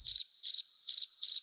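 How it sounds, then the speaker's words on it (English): A cricket chirps in steady bursts, four trilling pulses at an even rhythm, bright, close and isolated against near silence. "Crickets."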